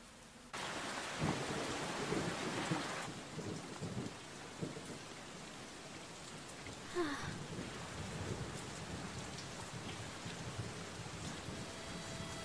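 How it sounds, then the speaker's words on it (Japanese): Steady heavy rain in a thunderstorm, with a dense wash of drops and a low rumble of thunder building near the start, continuing evenly throughout with no voices. "雨どうすんだよ。 おお、びしょ濡れだ。"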